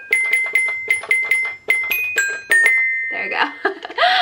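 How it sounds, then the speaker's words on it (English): A toy xylophone plinks a bright, simple tune, each metal tone ringing briefly in a steady rhythm, followed by a short burst of clattering noise. "I can play Jingle Bells."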